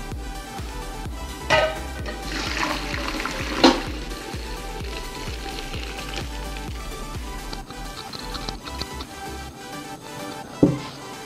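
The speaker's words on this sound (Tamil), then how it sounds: "நான் வடிக்க போகிறேன் ஃபில்டரில்." Boiled rice water pours out through a strainer in a steady, splashing gush, with small clatters and taps from the pot and strainer breaking through now and then.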